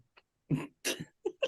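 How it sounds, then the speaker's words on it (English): A single short hiccup pops out in a quiet room, a quick breathy catch followed by a couple of brief voiced bursts, close and fairly soft. "That was a hiccup."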